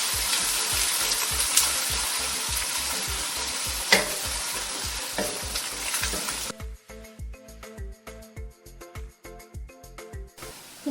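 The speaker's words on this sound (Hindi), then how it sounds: "तो प्याज और अदरक लहसुन थोड़ा सा फ्राई हो चुका है।" Onion, ginger and garlic sizzle in a pan while being stirred in quick, rhythmic scraping strokes; the hissing fries loudly at first, then drops away, leaving softer stirring taps.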